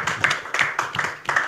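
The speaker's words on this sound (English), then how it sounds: "Please give applause to the all presenters" A seated audience at a university presentation session claps for the presenters: a short, moderately loud burst of scattered, uneven hand claps.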